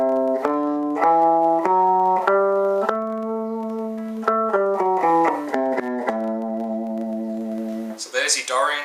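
Guitar playing a Dorian scale, single picked notes stepping through the scale in an even rhythm and ringing cleanly up close, ending as a voice starts to speak.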